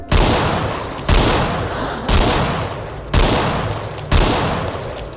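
Heavy gunfire in the video game Road to Fiddler's Green: five loud, evenly spaced shots about a second apart, each a sharp blast with a long booming tail and no talking.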